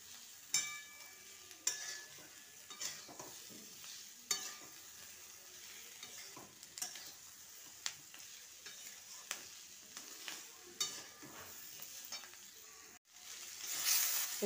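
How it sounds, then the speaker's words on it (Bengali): Mixed vegetables are stirred and fried with spices in a pan for veg jhal frezi, a soft continuous sizzle broken by repeated scraping strokes of a spoon at an irregular rhythm, then a louder burst near the end. "এবার এতে দিয়ে দিলাম আনাজটা। মশলার সাথে একটু ভালোভাবে মিক্স করে নেব।"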